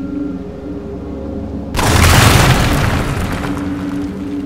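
Earthshaker weapon in Dragon Age Inquisition blasting through a barrier: a sudden loud boom erupts over a low ambient hum, its rumble lingering and slowly settling for a couple of seconds.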